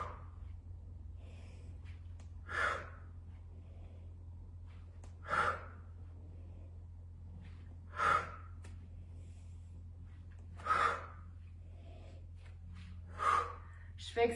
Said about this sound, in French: Je fais exprès pour la respiration